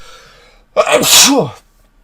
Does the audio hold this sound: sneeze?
yes